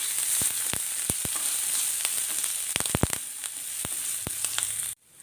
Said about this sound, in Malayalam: ഇഞ്ചി ഒന്ന് വഴറ്റി ഇഞ്ചിയുടെ പച്ചച്ചൊവയൊക്കെ ഒന്ന് മാറണം